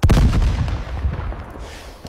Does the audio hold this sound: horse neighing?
no